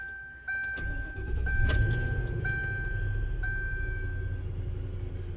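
A cold 2003 Lincoln Town Car engine cranks and fires, then settles into a steady low idle with a rising rumble, while a thin electronic chime tone repeats in the background.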